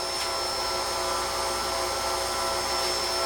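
Roughing gouge cutting into a scrap wood blank mounted between centers on a lathe, giving a steady, loud whirring and rasping with constant high hiss and motor hum throughout, no talk.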